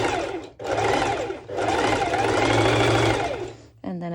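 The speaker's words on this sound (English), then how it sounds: "I do here a few back and forth stitches." A sewing machine runs a few short bursts of back-and-forth stitches on a mini skirt facing, loud and close, the motor whirring in steady runs separated by brief pauses.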